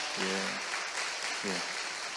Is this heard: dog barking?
no